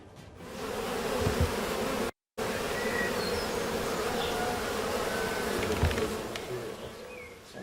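Honeybees at a hive on a Quba farm make a dense, steady buzz that fills the air, broken by a brief dropout, with no voices.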